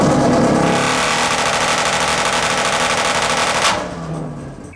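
Corvette exhaust rigged to shoot flames crackles in a rapid, loud, machine-gun-like burst of pops for several seconds, then cuts off sharply into a quieter engine idle.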